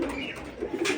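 Pigeons kept for sale coo in a short burst of soft, low throaty calls, close by and overlapping, with no talk.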